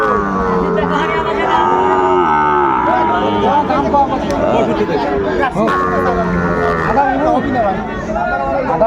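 Sahiwal bull calves moo loudly and repeatedly at a busy cattle market, their long low calls rising over constant crowd chatter and nearby voices of traders talking.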